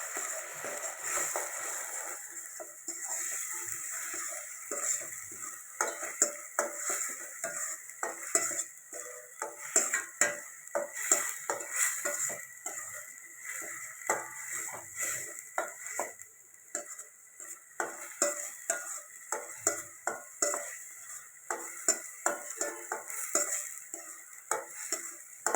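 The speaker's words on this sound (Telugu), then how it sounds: "ఉల్లిపాయ పేస్టు పచ్చివాసన పోయేదాకా కలుపుకోవాలి" A spoon scrapes and clinks against a pan while onion paste is stirred for chicken curry with almond paste, giving steady irregular metallic ticks and taps with no talking.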